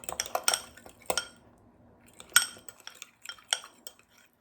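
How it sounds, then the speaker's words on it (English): Muffin batter of flour and baking powder being stirred in a bowl with a utensil, giving irregular scraping clinks and knocks in bursts with short pauses, close and fairly quiet, no talking. "we're gonna stir that around, check our consistency"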